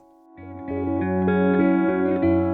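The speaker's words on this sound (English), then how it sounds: "We'll use that ominous spring reverb sound from my boom stand in the studio." A dark, sustained tone with a metallic, ringing spring reverb from a microphone boom stand in a studio builds after a brief silence, layered tones that shimmer and drone ominously.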